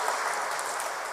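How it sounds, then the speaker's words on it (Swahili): An audience claps steadily and densely for about a second, with no pause in the dense patter. "Tumpigie makofi."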